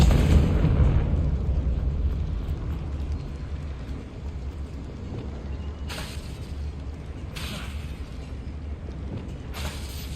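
A Confringo fire-blast spell in Hogwarts Legacy goes off with a loud opening burst that rumbles and fades, followed by mechanical creaking and a few short bright crackles, with no voices.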